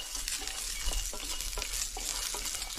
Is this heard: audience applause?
no